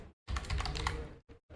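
Quick bursts of typing on a computer keyboard while entering JavaScript code, close and crisp, a rapid run of key clicks followed by a couple of brief separate taps.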